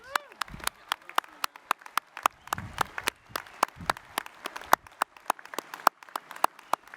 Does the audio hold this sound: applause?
yes